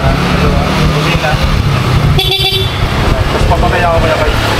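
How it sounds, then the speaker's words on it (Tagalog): A car horn sounds in a short burst over a loud background of traffic and engine noise, with people talking throughout. "Busina."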